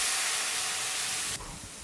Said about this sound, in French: Alors vous déglacez votre poêle avec un petit peu de vin rouge.